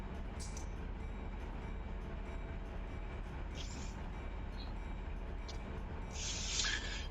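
A freight train in the Run8 simulator pulls slowly into the Barstow yard, giving a steady low rumble of rolling cars with faint squeals and clanks, and a brighter hiss of air or brakes near the end.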